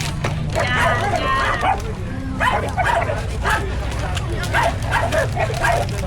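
A dog yips and barks in short repeated bursts through a noisy home scene at Christmas, with people talking over and around the sounds throughout.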